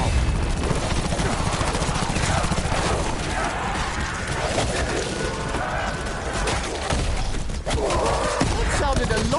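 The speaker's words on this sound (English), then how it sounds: "That sounded a lot wetter than an explosion really should." Explosion in Call of Duty Black Ops, dense and continuous with gunfire-like bursts and crashing debris, loud and busy throughout with voices under the battle noise.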